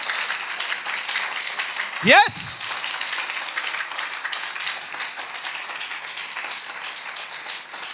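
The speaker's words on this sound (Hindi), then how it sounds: "जोर से ताली बजा के प्रभु के नाम की स्तुति कीजिए" A church congregation claps in praise during worship, a dense, steady applause running throughout while a voice shouts loudly over it.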